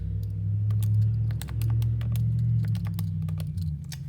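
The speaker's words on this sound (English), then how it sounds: "And now I type it in." Keys on a computer keyboard tap in quick irregular clusters, fairly close, over a steady low hum of background noise.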